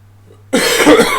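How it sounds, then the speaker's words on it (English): A single sharp cough bursts out after a moment of silence during a rapid chess game commentary, loud and close, lasting under a second. "Pardon. Beautiful cough, isn't it?"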